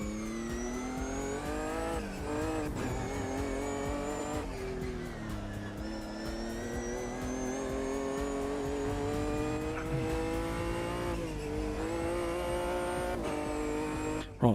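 A race car engine in the Automobilista 2 racing game screams through steady high revs with rising and falling gear changes, continuous and loud for the whole stretch.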